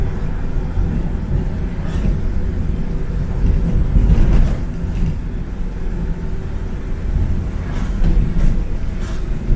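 A 1950s Standard 10 classic car drives along with its exhaust droning low and steady from inside, a constant rumble with a few brief swells in engine effort and no talk.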